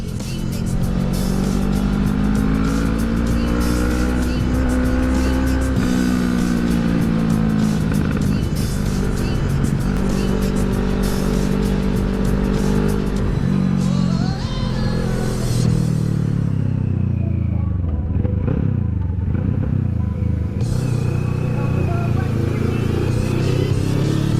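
A powerful Kawasaki NK650 motorcycle engine revs loudly and steadily, rising and falling in pitch as it accelerates, with a brief dip before roaring again.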